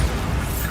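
Bombarda blasting spell cast in the video game Hogwarts Legacy: one loud, dense explosive burst with deep low rumble, filling the whole short moment close up.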